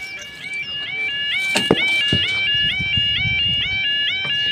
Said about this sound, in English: Brand new barriers, brand new alarms.